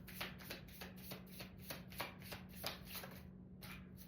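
An astrology card deck being shuffled by hand, a run of quick, evenly spaced riffling snaps that repeats about a dozen times over a low steady hum, soft and close.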